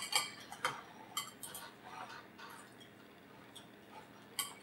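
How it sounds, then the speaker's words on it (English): A pastry blender mashes an egg in a bowl, giving a series of light, scattered clicks and taps of metal against the bowl, close and quiet, with no talk. "you want to mash it with the pastry blender"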